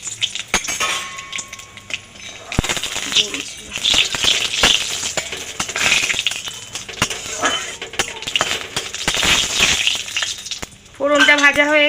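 Dried red chillies with black cumin seeds crackle and spit in hot oil, a dense, steady broadband sizzle with scattered sharp pops. It runs through the whole stretch, and brief clinks of utensils rise near the end.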